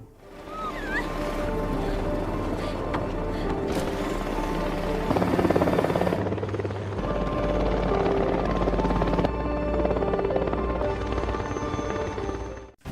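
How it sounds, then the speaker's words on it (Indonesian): A UN helicopter arrives in the action film Wolf Warrior 2, its rotor thudding steadily and loudly throughout with an engine whine, mixed with rushing wind or sea and a dramatic shift partway through. "Tidak lama kemudian, satu helikopter PBB pun tiba."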